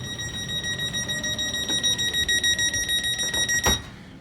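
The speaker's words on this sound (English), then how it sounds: "There's the doors closing." A rapid electronic door-closing warning tone on a MÁV Stadler KISS train repeats steadily for several seconds, high-pitched and insistent, then cuts off with a brief thud.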